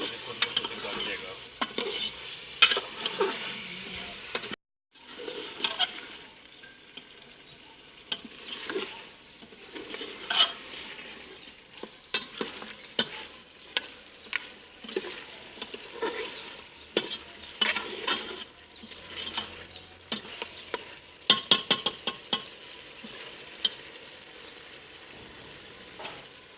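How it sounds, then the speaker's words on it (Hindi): Mutton is browned in a pan, with a steady sizzle under repeated scraping and clinking of a spoon against metal. The stirring strokes come in bursts over a long stretch, with a brief pause early on. "इसमें हम गोश्त डाल देंगे मटन। इसको भी थोड़ा सा भूनना है।"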